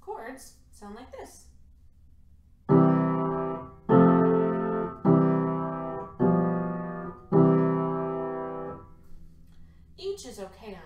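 Five sustained chords played one after another with no melody, each struck and left to ring before the next, evenly spaced and fairly loud, with brief talk before and after.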